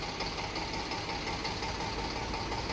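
A 2019 Eicher 485 DI tractor in original condition idles with a steady, even engine rumble and a faint knocking texture, moderately distant and quiet, with nobody speaking.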